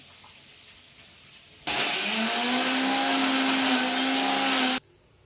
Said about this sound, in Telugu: ఇవి మిక్సీ చేసుకోవాలి